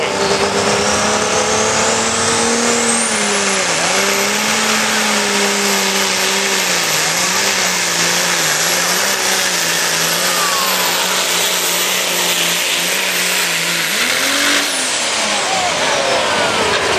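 A John Deere 4020 tractor engine roars loud and steady throughout a 2016 tractor pull in Holden, Missouri, its pitch wavering as it strains under load, with a sharp high whine running above the engine and a brief surge near the end.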